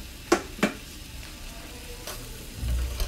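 Spices and salt are stirred into food frying in a pan: two sharp spoon knocks, then a low sizzle with softer scrapes and a brief rumble near the end, close, with no voice.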